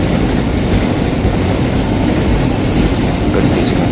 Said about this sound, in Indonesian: setelah kereta sudah lewat, kita jalan lagi